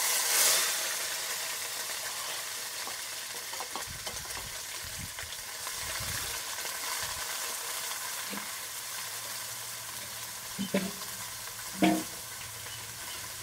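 A paste of cumin, ginger, garlic, onion and dried red chilli fries in oil that was tempered with whole cumin and bay leaf, giving a long, steady sizzle with occasional stirring scrapes and soft knocks.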